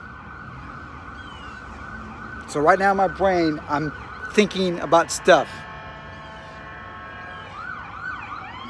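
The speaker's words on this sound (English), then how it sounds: "there's an ambulance going by" A wailing ambulance siren sweeps up and down in the background as it passes while someone speaks in the foreground, the siren steady and moderately distant throughout.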